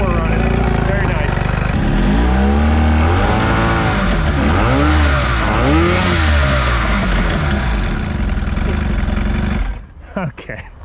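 A bass boat outboard motor, running on all four cylinders after a carburetor check, roars loud and close with repeated revving swells before cutting off abruptly near the end, with a voice speaking over it.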